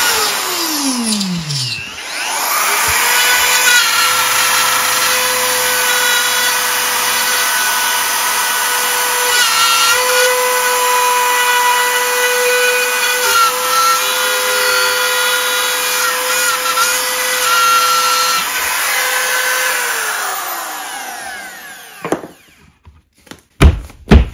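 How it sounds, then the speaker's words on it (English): A power tool whines steadily for about twenty seconds while cutting an electrical outlet opening through drywall, then spins down, followed by a few sharp knocks. "That's how you cut the hole for the drywall, through the drywall to get your electrical outlets to pop out."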